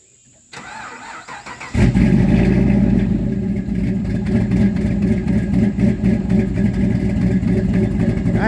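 Regal G-body car with big LS V8 power cranked over briefly, then catching and roaring to life, revving loudly up close before settling into a rumbling, lumpy idle that continues to the end.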